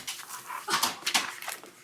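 Dogs whimpering and letting out soft whines and yips indoors, a few short, faint cries scattered over a quiet room background.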